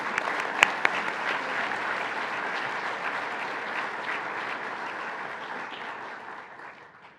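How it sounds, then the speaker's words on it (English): An audience at a Southern Arizona tech and business expo awards program breaks into steady applause after a donation is announced, even and sustained before fading out at the end. "Big round of applause."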